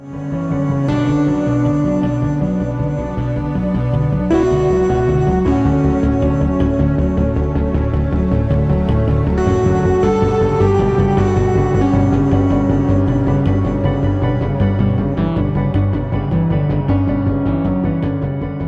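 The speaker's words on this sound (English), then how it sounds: "using some of the drive and distortion in the lo-fi and amp modes for that sort of extra" Gritty, distorted keyboard chords from the Heavyocity Mosaic Keys instrument play steadily in a looping pattern, with a crunchy overdriven tone from lo-fi and amp mode distortion and some echo, no voices.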